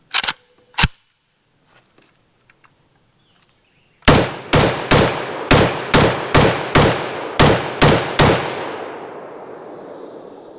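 IWI Galil Ace rifle firing a magazine outdoors: two sharp shots, a pause with faint handling noise, then a rapid string of about eleven loud, evenly spaced shots with ringing echo tailing off at the end.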